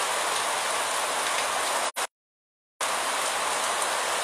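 Steady rain falls in the town of Macaúbas, Bahia, a dense even hiss of rainfall that stops abruptly for about a second before resuming just as strong.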